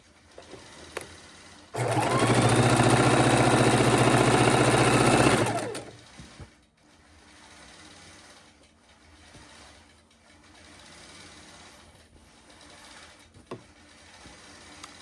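A sewing machine stitches scrappy quilt pieces in one loud, steady run of about four seconds, then stops, leaving a quiet room with faint handling noises.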